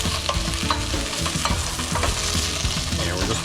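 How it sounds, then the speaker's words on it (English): Pot roast browning in a hot pan with onion and herbs, a steady close sizzle broken by scraping stir strokes, alone without talk. "we're just browning it, we're not cooking it, so just let it do its thing there for a little bit"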